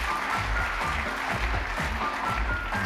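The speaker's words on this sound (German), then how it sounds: "Da haben die früher auch schon geklatscht." A studio audience at a 1950s German television show applauds in a steady, dense patter of many hands, continuous and even throughout, with no voices on top.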